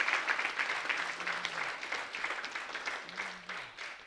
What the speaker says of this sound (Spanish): Démosle un aplauso grande de verdad a Él en esta mañana.